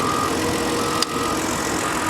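The 3-liter engine of a 2008 BMW X5, running without its engine cover, idles in a steady, loud hum at close range with one brief click partway through.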